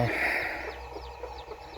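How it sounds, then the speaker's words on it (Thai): A few soft clucks from a nearby chicken, brief and quiet against a light background hum. "ไก่"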